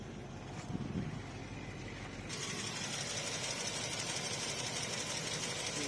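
A Range Rover P38 drivetrain with a ZF 4HP24 automatic gearbox runs with its flywheel and torque converter spinning, a steady mechanical whirring hum that grows slightly louder midway and continues evenly, moderately close.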